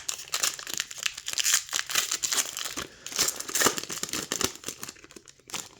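Opening a foil pack of 2024 Marvel Metal Universe Avengers Blast trading cards, close, busy crinkling and tearing with rapid irregular rustles for several seconds and no talking.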